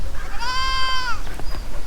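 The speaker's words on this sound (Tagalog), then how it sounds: "Nandun yung ating mga kambing, punta natin." A goat on a farm gives one clear, drawn-out bleat about half a second long. It is close and loud over a steady low rumble of background noise.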